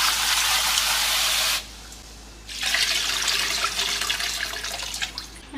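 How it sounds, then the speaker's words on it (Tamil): Water is poured over rice left to soak, a close splashing stream that breaks off briefly and then resumes for a second, longer pour. "நல்லா தண்ணி ஊற்றி"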